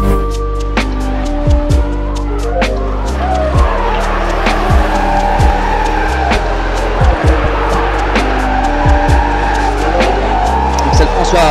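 Toyota GT86 and Nissan Skyline R33 drifting side by side at a French drift championship round in Calmont, engines roaring loud and close with repeated tire squeals and gear-shift drops throughout.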